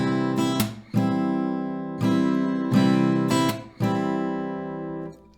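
Acoustic guitar strummed in a down-up pattern with sharp percussive slaps on the strings, played from a song, with a steady rhythm, four or five accented hits, close and unaccompanied by voice.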